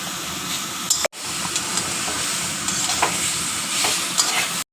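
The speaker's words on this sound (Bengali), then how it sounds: "দিয়ে দিলাম নুন দিয়ে নাড়িয়ে একটু ভাজা ভাজা করে তারপরে গুড় দিয়ে দেব।" Elephant apple (chalta) pieces frying with salt while being stirred in a pan give a steady close sizzle with scraping stir strokes, broken by two brief silent cuts.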